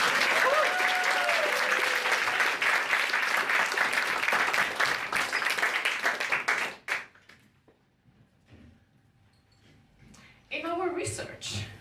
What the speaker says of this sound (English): can we have a round of applause for our HDL?